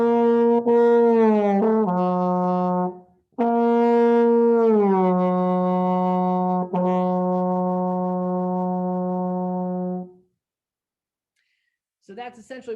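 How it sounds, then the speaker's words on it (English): Trombone glissando with the slide moving from first to sixth position: a sustained brassy tone bends smoothly downward, then a second long sliding note is held for several seconds before fading, played alone. "Try just moving your slide back and forth from first position all the way up to sixth position"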